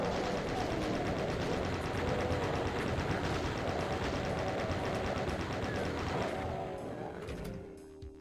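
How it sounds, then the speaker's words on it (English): Rapid chain gun fire in Doom, a dense continuous mechanical rattle of shots that runs loud and steady before tapering off near the end, with no talk over it. "here we can take out our chain gun"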